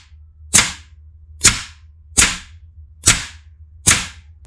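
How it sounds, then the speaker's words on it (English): A pneumatic solenoid on a full-auto HPA-modded Nerf Longshot drives the bolt sled back and forward, giving five sharp, loud air-snap bursts at an even rhythm, each followed by a short hissing decay over a low hum. "A second solenoid controls the piston, pushing the bolt sled back and forward."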